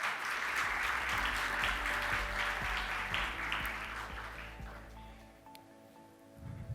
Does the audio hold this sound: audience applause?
yes